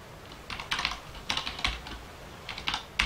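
Clacky computer keyboard being typed on in short bursts of several keystrokes separated by pauses, close and fairly loud, with no talking.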